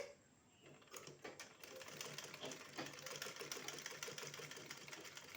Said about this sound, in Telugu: డబల్ మీద ఫోల్డ్ చేసుకుని నేను ఎలా కుడుతున్నానో ఒకసారి చూడండి